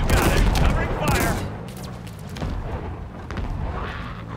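Video game battle with a loud burst of rapid covering gunfire up close, then more scattered shots and booms continuing, with game voices shouting over the shooting.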